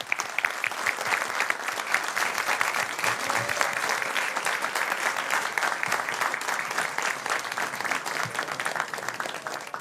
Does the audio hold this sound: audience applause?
yes